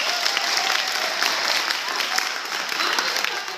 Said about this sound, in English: Both the crowd and the disciples gave Judas and Jesus applause for being so polite to each other.